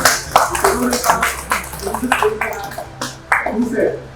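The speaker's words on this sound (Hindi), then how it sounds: "सब लोग जोरदार ताली बजा उनके लिए" Students at an orientation-day lecture at Goel Ayurvedic Medical College in Lucknow burst into brisk, fairly close applause, with uneven claps that fade and then pick up again, alongside voices.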